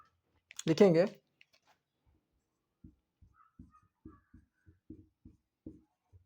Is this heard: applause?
no